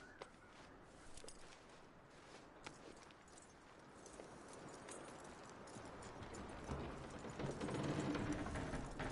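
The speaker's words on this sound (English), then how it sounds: "That looks like a decent horse." Horse hooves clip-clopping at a walking pace in the Red Dead Redemption 2 game world, soft and steady beneath a faint ambient bed that builds slightly toward the end.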